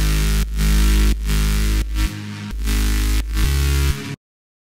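Unprocessed bass bus from a song mix, playing as a heavy low-end bass line in repeated sustained notes with short gaps between them, loud and dry, then cutting off abruptly to silence near the end.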